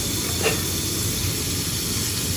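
Beef sizzling in very hot fat in a pot for beyran, a steady close, loud hiss with a brief spitting flare near the start.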